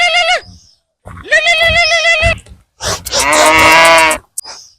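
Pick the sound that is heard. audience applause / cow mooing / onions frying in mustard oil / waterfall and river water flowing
cow mooing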